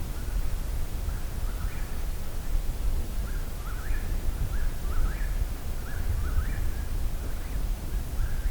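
Whippoorwills call at night, their short repeated phrases faint and distant over a steady hiss of background noise, with no voices.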